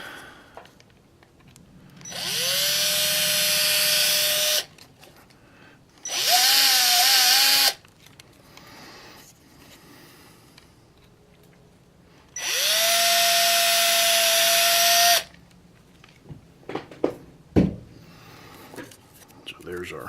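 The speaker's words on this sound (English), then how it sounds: "Get our drill again." A power drill bores holes during a car sound system install, three separate bursts of whirring, each a few seconds long, rising to a steady pitch, with handling clatter and knocks between them.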